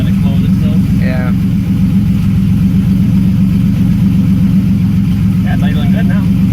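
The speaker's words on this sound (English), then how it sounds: "it's idling good now" A turbo-swapped Pontiac Fiero with a built 3400 V6 and a 3500 intake idles steadily nearby, a continuous low, even engine drone with faint voices under it.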